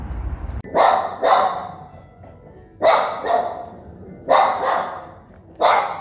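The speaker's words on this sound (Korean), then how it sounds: "의전 담당 댕댕이" A dog barks in four separate bursts, close and fairly loud, with short pauses between them and no talking.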